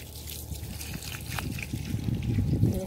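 Water is poured into the soil of a potted plant until it is soaked, producing a steady, close trickle and dribble with small drips and gurgles that grow slightly louder.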